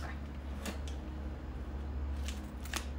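Scissors snipping a cheese package in a home kitchen, a few quick separate snips over a steady low hum.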